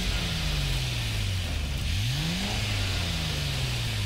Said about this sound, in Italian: sentite anche il rombo del motore